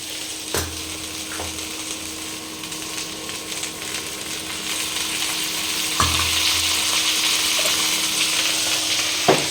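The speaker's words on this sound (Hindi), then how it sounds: "इसमें थोड़ा सा तेल पड़ेगा, थोड़ा आँच पड़ेगा।" Vegetable bhujia fries in oil over the heat with a steady, close sizzle, stirred now and then with a few soft utensil scrapes and knocks against the pan.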